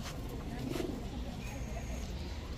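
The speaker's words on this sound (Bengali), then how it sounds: "এখন এক পেয়ার বাঞ্জা কবুতর দেখাবো।" Pigeons kept for sale by a pigeon hawker coo softly and repeatedly nearby, mixed with general background noise and talk.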